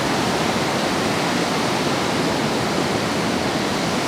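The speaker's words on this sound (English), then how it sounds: "So like this, the wave is coming in." Ocean surf rolling onto the sand at Rockaway Beach in New York City, a steady, loud, continuous wash of broadband roar with no voices.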